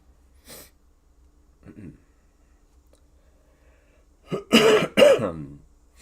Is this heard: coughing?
yes